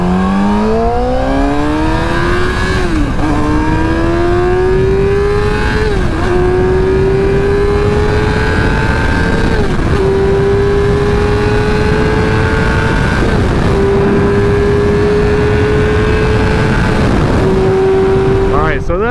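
A 2008 Yamaha R6 sport bike with just under 26,000 miles is ridden around the block. Its engine revs loud and close, climbing through several gear changes in a rising, stepping whine with brief dips between shifts.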